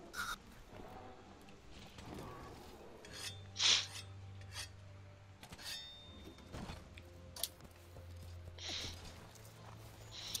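Weapon sharpened on a whetstone in the video game Monster Hunter World Iceborne, with repeated rasping scrapes amid game sound effects and faint background hum.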